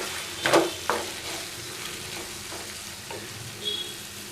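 Okra for ladies finger poriyal frying in a pan over medium flame, a soft steady sizzle with a few sharp stirring clacks near the start, close up and without voices.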